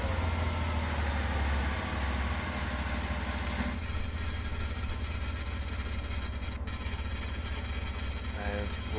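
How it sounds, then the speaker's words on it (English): A BR363 locomotive in a train simulator game brakes toward a stop, a steady rail rumble and wheel noise that thins out partway through, with a faint squeal near the end. "So let's stop the train."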